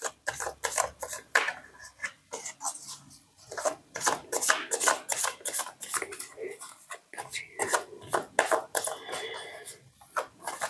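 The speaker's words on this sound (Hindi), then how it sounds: "मैं शफल कर रही हूँ।" Tarot cards are shuffled by hand in a quick, uneven run of soft riffling and rubbing slaps, close and fairly quiet, with someone speaking softly between bursts.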